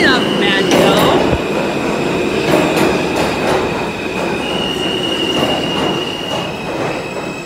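A Queens-bound M local subway train runs at 23rd Street station, wheels squealing and rails clacking in a steady rhythm, with a high sustained screech over rumbling motion, close and loud.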